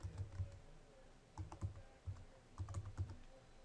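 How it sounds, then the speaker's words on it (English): A card number is typed on a computer keyboard, with faint, close key clicks coming in short bursts separated by brief pauses. "let me try typing in a number here real quick"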